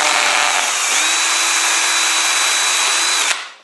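A power drill with a 10mm bit whines steadily at high speed for a few seconds drilling into plasterboard, close and loud, then cuts off and spins down.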